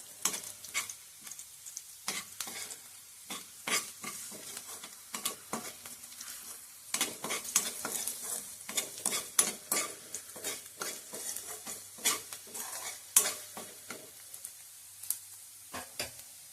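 Onion being roasted and stirred in a pan while cooking a Malvani val bean usal, with steady frying sizzle and repeated scraping, clattering stirs close by, irregular throughout, no voices.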